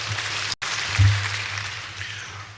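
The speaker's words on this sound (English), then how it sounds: "let's clap for them as well" Applause from a university public-lecture audience, a moderate, diffuse patter of clapping with a brief dropout early on, continuing at an even level before gradually easing off.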